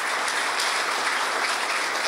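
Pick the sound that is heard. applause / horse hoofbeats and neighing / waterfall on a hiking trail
applause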